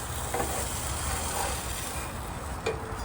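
A gluten-free blueberry pancake sizzles steadily in a pan at a campsite just after being flipped, a close, continuous crackling hiss with a faint scrape or two.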